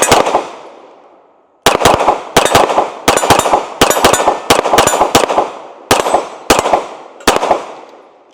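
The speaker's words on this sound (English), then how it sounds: "So let's go ahead and shoot some more rounds." A Sig P320 SXG pistol firing a string of loud, sharp rounds outdoors, starting with one shot and its long decaying echo, then rapid irregular bursts of closely spaced reports with short pauses between groups.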